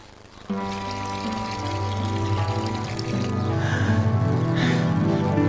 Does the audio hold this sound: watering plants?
yes